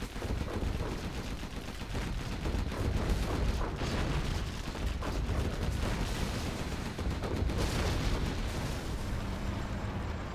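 Distant battlefield roar in C&C Zero Hour as units fire on Overlord tanks, a steady wash of rumbling shots and blasts with occasional louder bursts, fairly quiet throughout.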